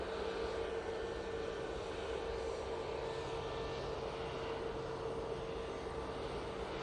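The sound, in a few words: Aer Lingus airliner on a missed approach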